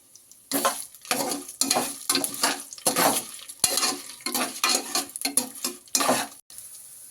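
Dried red chillies and moong dal sautéed in a pan, a series of close, loud scraping and rattling bursts from a spoon stirring the dry ingredients, with brief quiet gaps between strokes.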